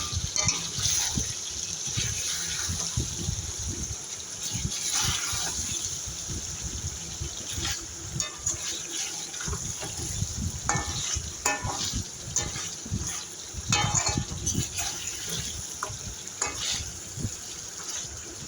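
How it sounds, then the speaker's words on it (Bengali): Mutton being stir-fried in plenty of oil with no water added, a steady broadband sizzle with repeated scraping and stirring clatters running throughout, close and continuous. "আমি জল দেব না, তেলের সাহায্যেই ভালো করে কষিয়ে নেব।"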